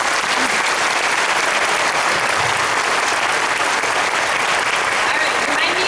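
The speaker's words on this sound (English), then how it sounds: "I just want to give another round of applause" Audience applause at a 6th grade school band concert, a dense, steady wash of many hands clapping that fills the whole stretch at full loudness, with no voices rising above it.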